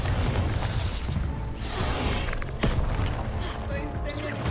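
Confringo spell explosions burst in Hogwarts Legacy, heavy booming blasts with whooshing swells and a sharp crack near the middle, close and loud over continuous game noise.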